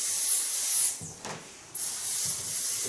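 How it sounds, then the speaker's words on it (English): Gloss hair spray misted onto a woman's hair during a perm and blonde colour styling, heard as steady close hissing bursts with a brief pause between sprays. "I give her a wonderful product of Kylie to nurse the hairs. It's a gloss spray."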